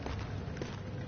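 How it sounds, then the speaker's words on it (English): Muffled footsteps thud steadily overhead in the video game Amnesia, soft and distant against a low, constant background rumble. "Someone's walking up there."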